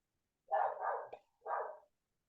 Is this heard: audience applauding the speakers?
no